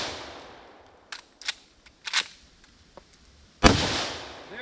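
Gunshots from a firearm loaded with ammunition left outdoors for over a week, several sharp close reports spaced irregularly, ending in one louder crack with a ringing tail.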